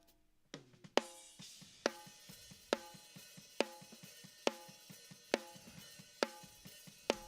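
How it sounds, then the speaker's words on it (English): A heavily compressed, slammed snare drum processed through a Waves CLA-2A plays a steady groove of sharp, loud hits about every second, with softer ghost strokes between, punchy and upfront with no talking. "Now we have another version of the snare that's slammed,"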